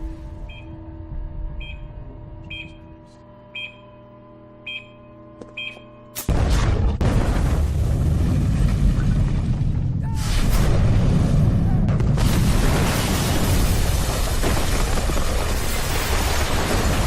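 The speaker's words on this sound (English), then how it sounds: "ended tragically in a dramatic explosion which collapsed the building" A building blows up in the video game Rampage 2. Quiet game beeps and tones come first, then a sudden loud blast breaks into a long, dense rumble of explosions and collapse.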